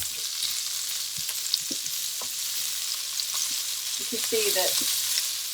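Cauliflower tossed with salt and turmeric frying in a pan on high heat gives a bright, steady hiss with scattered light taps and stirring scrapes, while a voice speaks briefly near the end.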